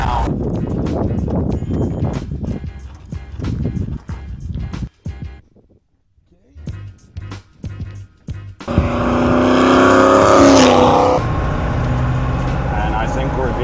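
A spec Ford Bronco driving along, its engine and road noise steady beneath talk, with a quiet gap midway before a louder, brighter stretch of driving noise near the end.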